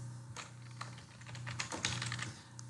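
Rapid, uneven keystrokes on a computer keyboard as a comment is typed in AutoCAD, close and clear with no voice over them for a few seconds.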